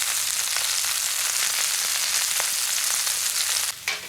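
Halved Brussels sprouts and onion frying in a cast iron pan on a Solo Stove Mesa, a dense steady hiss close up with a few soft pops, dropping off abruptly at the end.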